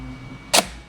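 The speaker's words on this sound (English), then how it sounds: "Let's see how the shutter works." A single sharp mechanical click from a Leica camera shutter firing, close and brief, standing out over a quiet room hum.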